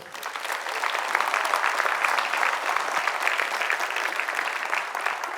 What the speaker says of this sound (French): Je pense qu'on peut applaudir Camille.